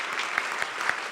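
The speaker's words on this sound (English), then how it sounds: "let's just have a round of applause for Tomas and Anna" Applause from an audience at an evening anniversary gathering for a journalism foundation, a steady wash of many hands clapping alone for just over a second, dense and even throughout.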